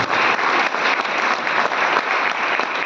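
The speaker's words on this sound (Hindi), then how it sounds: "तो ताली जबरदस्त होनी चाहिए।" Enthusiastic applause from a crowd, dense steady clapping that fills the whole stretch without letting up.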